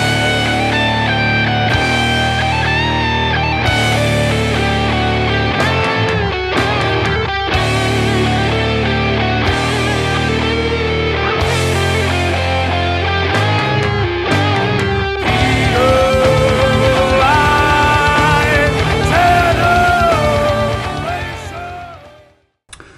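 A single from a metal band plays loud and dense with distorted guitars, driving drums and sustained tones, then fades out at the very end.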